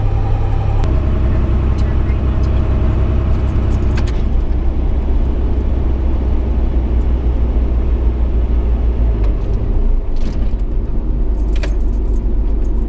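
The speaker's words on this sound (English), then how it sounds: "the engine was still totally running because I still had it in gear" A vehicle engine idles in gear with a steady low drone that fills the whole stretch, joined by light rattles and jingling clicks; a person speaks over it.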